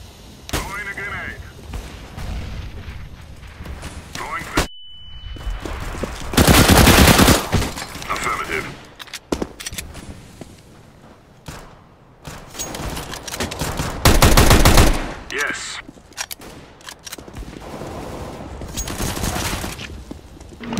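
Rapid gunfire from the video game CS:GO crackles in repeated bursts and heavy volleys, loud and punchy, with a player's voice talking between the shots.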